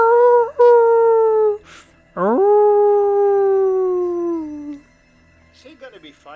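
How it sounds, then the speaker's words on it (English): Several wolves howl back from across a river in a swamp, long drawn-out calls rising and sliding down in pitch, loud and sustained in two main waves before fading into quieter yips. "They sound like wolves."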